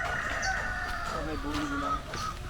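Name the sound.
mixed breed farm chickens clucking and crowing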